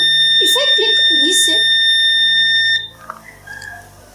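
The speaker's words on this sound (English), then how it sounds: "You can see that the buzzer is alarming and it went to off. So the buzzer will be keep on ringing." A loud electronic gas alarm buzzer on an Arduino gas safety device sounds continuously with steady high tones while a person talks over it; it drops off sharply near the end when reset.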